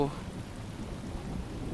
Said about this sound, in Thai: อะไรอะเสียงฝนเหรอ